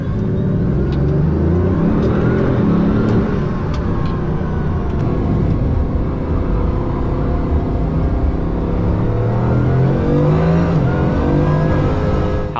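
A Pagani Huayra BC pulls away in first gear, its engine loud and close as revs climb in a steady rising rumble across the whole stretch, with no talking.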